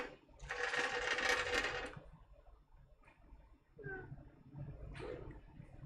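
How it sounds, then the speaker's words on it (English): Welding on EVO catch cans: a loud, steady crackling buzz of about a second and a half, then brief fainter bursts over quieter shop noise. "the sound of welding"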